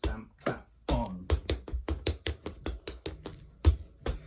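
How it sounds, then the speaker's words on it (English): Tap dance stamps and claps ring out as a rapid series of sharp, close percussive hits in an even rhythm, with a brief voice at the start. "you just do what we did in the first instance with the stamp, clap, stamp, clap, stamp, clap"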